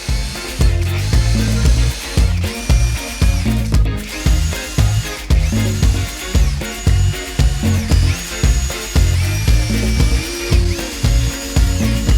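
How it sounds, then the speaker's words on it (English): A power drill with a 3/8 inch countersink bit bores holes for wood plugs in a kitchen chair back rest, a loud close whine in repeated short bursts with brief pauses between them, with no talk. "I used a 3/8 inch countersink for the wood plugs."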